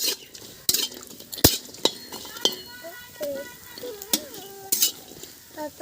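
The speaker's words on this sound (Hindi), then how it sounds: "सब्ज़ी बनाने वाले हमारे अदौड़ी थे दोस्तों, तो वो भी हम कढ़ाई में भूनने लगे" Adauri roasting in a hot kadhai (wok), with repeated sharp metallic scrapes and clanks of a spatula stirring against the pan over a low sizzle of oil, close and irregular, and faint bits of voice in between.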